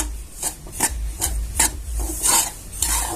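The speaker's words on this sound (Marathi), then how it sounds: "आता रवा पण आपल्याला बिना तेलाचा बिना तुपाचा भाजून घ्यायचा आहे" Dry semolina scraped and stirred around a pan, roasting without oil or ghee, a series of raspy strokes coming every half second or so, close and steady, with no talking.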